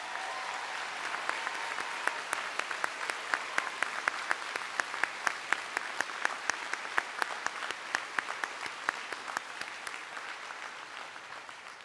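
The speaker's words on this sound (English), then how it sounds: "Please join me in a round of applause one more time as we thank him." A commencement audience claps for an honoree in a large hall, a sustained round of applause with sharp, regular individual claps standing out over the crowd, holding steady and easing slightly toward the end.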